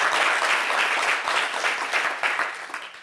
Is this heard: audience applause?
yes